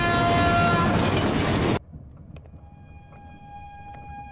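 A train rumbles loudly along the rails for nearly two seconds, then cuts off abruptly into a quiet interior hum with faint tones and small clicks.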